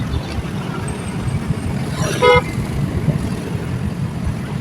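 Busy road traffic at rush hour, a steady loud rumble of cars and motorbikes close by, with a short horn toot partway through.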